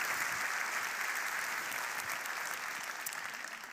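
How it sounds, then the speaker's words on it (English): Sustained applause from a keynote audience at a Microsoft digital transformation event, a broad, even wash of many clapping hands heard from a distance, holding steady and fading slightly at the end. "a big round of applause for Hillevi"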